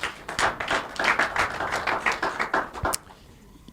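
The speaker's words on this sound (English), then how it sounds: "More clap for Jessica." An audience claps for Jessica, a dense burst of rhythmic applause lasting close to three seconds before it cuts off into quiet room noise.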